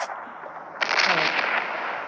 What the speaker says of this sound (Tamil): எரிமலை வெடிச்சிருச்சு